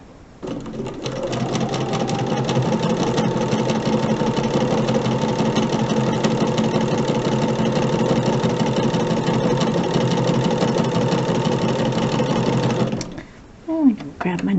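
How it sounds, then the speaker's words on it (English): A sewing machine stitches quilt fabric for half-square triangles, running in one loud, continuous close whir for about twelve seconds before stopping abruptly, followed by a brief rustle of handling. "We're going to sew 1/4 inch from each side of that line."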